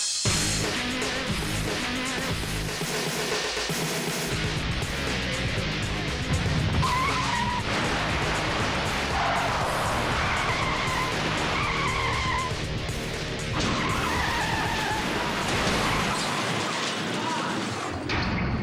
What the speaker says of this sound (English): The pickup truck, its rear tire shredded, loses control and nearly takes out one car.